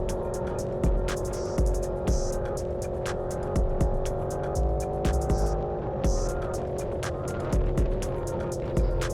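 A 2024 Aprilia RSV4 1100 Factory sport motorcycle, fitted with an SC Project exhaust and a Gabros tune, drones loudly up close as it accelerates through the gears, with rhythmic rising and dropping engine pitch at each shift.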